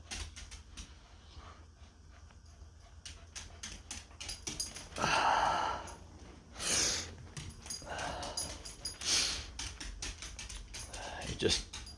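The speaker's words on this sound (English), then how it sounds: "And now he's over there scratching on the floor like he always does." An old dog with weak back legs scratches at a floor indoors, giving bursts of scraping and scuffing mixed with snorts and heavy breathing, close and fairly quiet.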